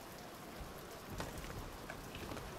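Pouring rain in the video game Bioshock Infinite, a steady wash of downpour with scattered drops and faint rumbling underneath, continuous and close throughout.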